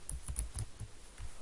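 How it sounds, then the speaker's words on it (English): Keystrokes on a computer keyboard while entering a file name in video-editing software, a quick irregular run of about eight close, crisp clicks with no voices. "type a file name. I am typing"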